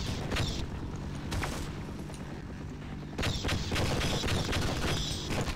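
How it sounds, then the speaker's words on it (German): In Half-Life, a player fires around a corner, and repeated gunshots crack out in bursts. Dense rattling volleys sit over a rumbling background, with a short lull before the firing picks up again louder. "Ich schieße einfach raus um die Ecke herum."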